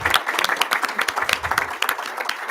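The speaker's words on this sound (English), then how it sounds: "Let's give them a round of applause" Audience at a school board of education meeting applauds, a steady patter of many hands clapping for a couple of seconds, moderately loud with no one speaking.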